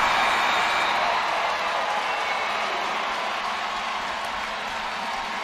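A large indoor home crowd at a college basketball game roars and cheers in a sustained wash of noise that slowly fades, with scattered clapping underneath.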